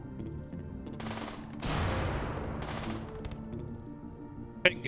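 Gunfire from a tribal-combat colony game, a dense fusillade of rapid shots rolling across several seconds, moderately loud and continuous, with a sharp single crack near the end.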